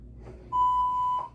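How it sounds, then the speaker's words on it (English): An interval timer for a workout gives one steady electronic beep lasting under a second, clear and close against a quiet room. "I just gotta put my interval timer on."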